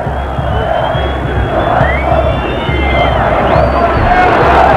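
Stadium crowd of Ponte Preta supporters at a 2001 Paulistão football match against São Paulo, a dense continuous roar and babble of jeering fans filling the whole stretch, steady and loud with no single voice standing out.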